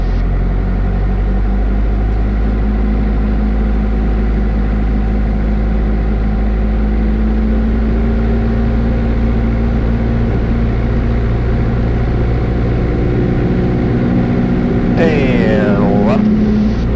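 Small aircraft piston engine held at a steady run-up, a loud continuous drone with stable harmonics for the whole stretch, rising briefly near the end, with a pilot's voice over the engine.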